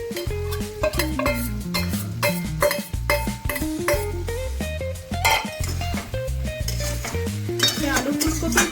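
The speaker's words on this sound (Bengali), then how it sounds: "আলু ফুলকপি দিয়ে মিশ্রণটি ভালো করে মিশিয়ে নেব" A spoon scrapes and clinks against a metal pot while fried potatoes and cauliflower are stirred into a thin bhetki fish curry, with repeated knocks and rattling in an uneven rhythm.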